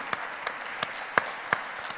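Audience applause at a presentation of a social and sustainable tourism good-practices manual, heard as sparse, evenly spaced individual claps rather than a dense ovation, fairly close.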